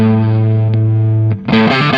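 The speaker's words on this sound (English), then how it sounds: "let's go over to the A setting" A guitar played through a Matero effects pedal on its A setting rings out in a held distorted chord, then a fresh strum a little over a second in, loud and close with no talk.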